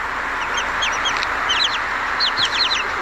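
Chickens wearing fuzzy slippers on a field trip cluck and chirp in repeated short bursts over a steady background hiss, fairly close and clear, with no talking.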